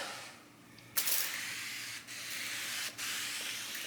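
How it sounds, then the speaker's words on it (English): Wax and grease remover sprayed onto the sanded body of a 1970 Chevelle, three close, loud hissing bursts of aerosol spray separated by brief pauses, with no talking. "When you wet it down with wax and grease remover"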